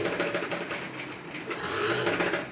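A sewing machine stitches pleats into a dress, its needle running in a steady fast rattle close by throughout, with no talking.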